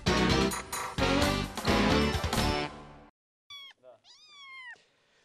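A kitten in a farmyard pen with three-week-old ducklings and goslings gives two or three clear, rising-and-falling meows, close and fairly loud, after about three seconds of loud, dense sound.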